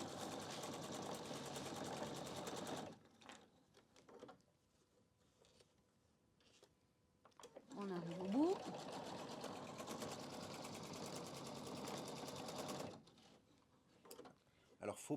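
A PFAFF QE 720 sewing machine runs in two long even bursts of rapid stitching with a quiet gap between; someone speaks in the pauses.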